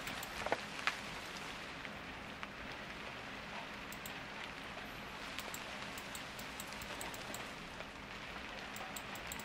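Rain patters steadily in a home-alone video game, an even broadband wash with scattered light drips and a couple of brief knocks near the start.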